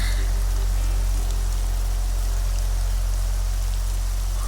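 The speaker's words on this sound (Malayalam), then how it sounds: "മഴയുടെ ഈ ആർത്തിരമ്പൽ എനിക്കെപ്പോഴും ഇഷ്ടമാണ്." Heavy rain roars steadily and loudly alone, a dense continuous wash of falling water with a deep low rumble throughout and no voices.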